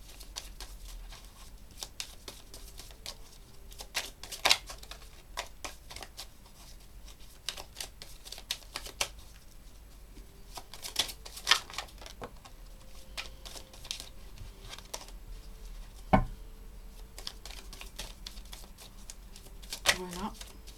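A deck of cards is shuffled in irregular riffling bursts and taps at close range, while a person speaks intermittently in between.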